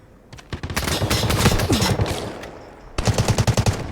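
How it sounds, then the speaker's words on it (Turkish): Gunfire in the mobile shooter Delta Force Hawk Ops, loud automatic bursts of rapid evenly spaced shots, one long volley then a short pause before another sharp burst, no talking. "Atış açıldı, atış açıldı."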